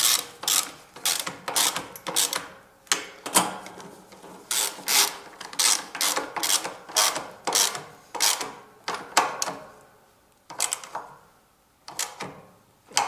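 A wrench works on 10mm bolts on a new snow blower, giving a steady run of sharp metallic ratchet clicks in short bursts with brief pauses, close and fairly loud with no talk.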